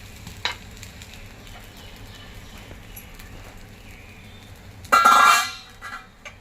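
Rava aamboli cooks on a pan with a faint, low sizzle, then a sudden loud hissing burst near the end that fades back to quiet.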